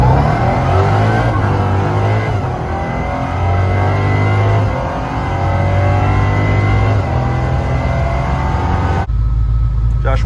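A hot rod with an old-school V8 sound rumbles and revs loudly up close, its deep burbling engine note rising and falling in repeated surges before cutting off abruptly near the end.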